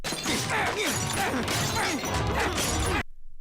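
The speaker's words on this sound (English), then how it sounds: "I don't get what smashing the device accomplishes" A device is smashed in a Johnny Test cartoon, heard as a loud, dense burst of crashing and clattering with chirping cartoon effects, running for about three seconds before cutting off abruptly.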